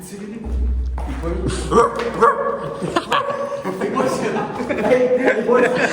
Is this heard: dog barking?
yes